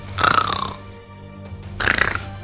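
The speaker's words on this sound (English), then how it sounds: "That sounds like snoring." Two heavy, rasping snores, close by, separated by a short quiet pause with a faint low hum underneath.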